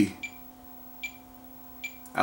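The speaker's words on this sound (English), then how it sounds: "the beep on the Fluke" A Fluke multimeter gives three short, quiet, evenly spaced beeps about a second apart over a faint steady hum, with a louder noise at the end.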